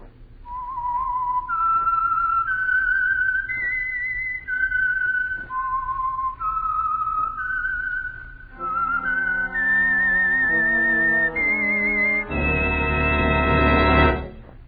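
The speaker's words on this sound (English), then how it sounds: "the signal to listen for is this whistle that identifies the Signal Oil program" The Whistler's signature whistle for the Signal Oil radio program, a lone eerie melody of rising and falling notes, later joined by an orchestral chord that swells at the end.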